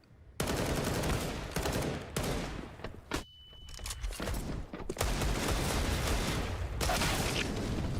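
Sustained automatic gunfire fills a Counter-Strike: Global Offensive pro match between Mousesports and ENCE, loud and near, with rapid bursts broken by a brief lull before the shooting resumes.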